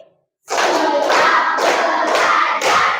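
Children in a classroom clap their hands in a counting game, bursts of loud group clapping that swell, pause briefly and start again in a rhythmic pattern.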